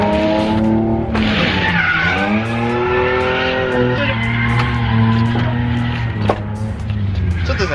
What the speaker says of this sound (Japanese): じゃあちょっとねエンジンかけていきましょう